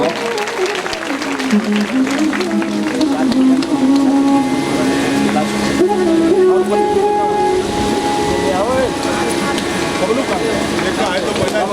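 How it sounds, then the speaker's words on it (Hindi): Loud, sustained applause from a large crowd at a Bhagwat Katha religious gathering in Hardoi, India, with a voice and some musical tones carrying over the clapping throughout. "जोरदार तालियां भैया जी के लिए बजा दीजिए।"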